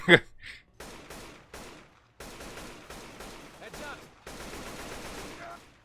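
Gunfire in the video game Left 4 Dead 2: repeated bursts of automatic shots in short volleys separated by brief pauses, fairly close and loud, with no talking.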